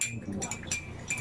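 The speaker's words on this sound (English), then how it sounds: "Then, the first glass, we will add the salt." A spoon stirs salt into water in a glass, making a quick series of close, light clinks against the glass, each tap bright and brief.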